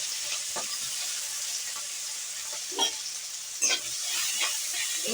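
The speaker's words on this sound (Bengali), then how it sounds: "তেলটা আমার গরম হয়ে গেছে, আমি এবার কালো জিরে দেবো। এবার রসুন কাঁচা লঙ্কা যেটা থেঁতো করে রেখেছিলাম" Crushed garlic and green chili with black cumin seeds fry in hot oil, a steady close sizzle with a few stirring scrapes and brief louder crackles.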